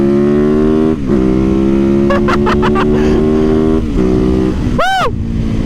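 A motorcycle engine drones loudly and steadily with a strong, rich tone while the rider holds a wheelie, dipping briefly twice and giving a quick, sharp rev blip near the end.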